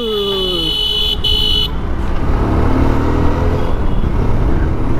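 Road traffic on Sitapur Road in Lucknow, India: horn tones sound over the first couple of seconds, then a steady, loud rumble of passing vehicles fills the rest, with no talking.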